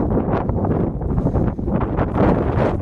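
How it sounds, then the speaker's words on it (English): Strong gusts batter the microphone on a hilltop walk near Bakewell, producing continuous loud, low-pitched rumbling and flapping noise that rises and falls. "It's very windy up here."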